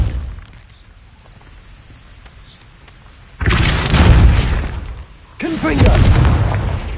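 Two Repulso spell impacts from Hogwarts Legacy land as heavy, loud whooshing bursts a couple of seconds apart, each rising out of quiet background with a rushing, blasting tail.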